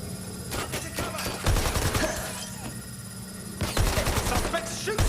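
Rapid bursts of automatic gunfire from a suspect shooting in the video game Watch Dogs: Legion, loud and close, in several volleys with short pauses between them.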